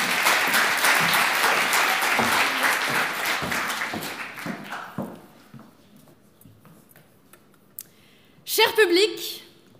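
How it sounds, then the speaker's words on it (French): Audience applause at a Geneva eloquence contest, full clapping that fades out after about five seconds, followed by quiet and then a brief burst of speech. "merci de l'applaudir."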